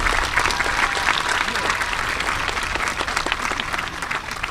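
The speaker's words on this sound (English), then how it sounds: "Can I get another round of applause for the motivating words?" A high school graduation audience applauds the student speeches with dense, sustained clapping that stays loud and even throughout, with faint crowd murmur mixed in.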